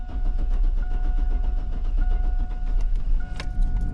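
A small, packed car in hot weather cranks and turns over as its engine starts on the first try, a close, steady rumble with faint jangling running throughout.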